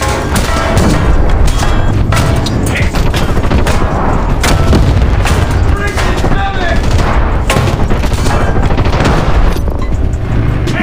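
T-34 tank gunfire in War Thunder Mobile, heavy booms and bursts of firing over a constant rumbling engine and battle din, loud and close, with someone talking over it.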